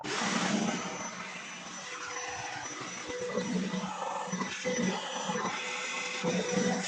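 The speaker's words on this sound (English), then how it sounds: "I'm just going to use the wet vac to get all that dried out" A wet vac sucks water out of a toilet tank during a fill valve replacement, giving a loud, continuous gurgling roar that surges and slurps unevenly as the water is drawn up, close to the microphone.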